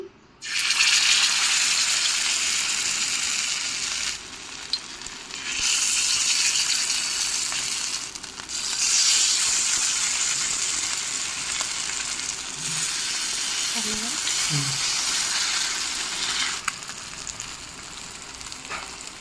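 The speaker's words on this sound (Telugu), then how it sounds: "ఈ ఫిష్ ముక్కల్ని ఆయిల్ వేసుకున్న ప్యానం మీద పెట్టుకోవాలండి" Marinated fish pieces fry in an oiled pan, a loud, bright sizzle that swells and dips in several waves, with brief quieter gaps and a few low knocks.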